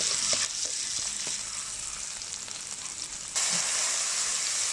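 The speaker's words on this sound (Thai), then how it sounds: "ใส่ พริกกระเทียมที่ตำไปเมื่อกี้ ผักให้หอมพี่น้องเลย" Pounded chili and garlic stir-frying in a hot pan for spicy squid basil stir-fry, a steady loud sizzle with faint stirring scrapes, swelling louder toward the end.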